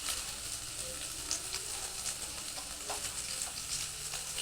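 Cut green chillies and onions sautéing with spices in a pan for a kochur loti dish, a steady soft sizzle with occasional faint stirring scrapes, no talk.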